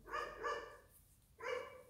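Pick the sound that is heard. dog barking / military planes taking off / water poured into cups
dog barking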